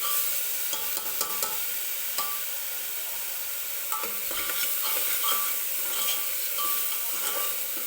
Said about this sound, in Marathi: आणि व्यवस्थित परतून घ्यायचं आहे आपण हे वाटण वगैरे जे तयार केलं आहे ते.